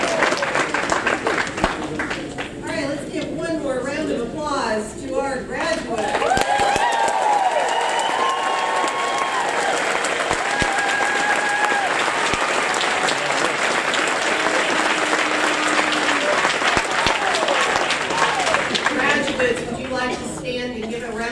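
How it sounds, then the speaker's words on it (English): Sustained applause from a large commencement audience for graduates at a winter college graduation ceremony, steady and full throughout, with cheers and voices mixed in. "let's give one more round of applause to our graduates."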